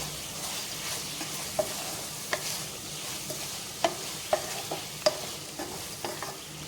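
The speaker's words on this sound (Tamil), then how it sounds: "கடைசியாக கொத்தமல்லி தூவி வதக்கி விட்டுக்கலாம்" Capsicum being sautéed with a sprinkling of coriander in a pan for capsicum rice, a steady low sizzle broken by a series of sharp spatula scrapes and taps against the metal, close by with no talking.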